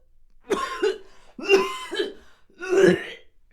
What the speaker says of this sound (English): A violent coughing fit interrupted her sentence.